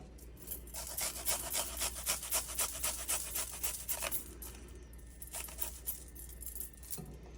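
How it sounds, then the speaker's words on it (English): Garlic cloves are rubbed against a kitchen grater in quick, rhythmic scraping strokes, with a steady run and then a shorter second burst, close and fairly quiet. "So I'm going to grate the cloves."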